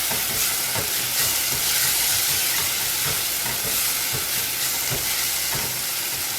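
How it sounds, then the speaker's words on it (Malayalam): Tomato and spices with a little coriander powder sauté in a pan for Indian-style masala pasta, giving a steady, loud sizzle with regular scraping stirs throughout and no talking. "എന്നിട്ട് ഒന്നും കൂടി വഴറ്റി കൊടുക്കാം."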